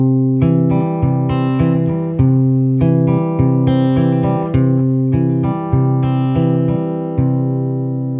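A plucked acoustic guitar pattern, steady picked notes over a repeating bass line, played alone and clear.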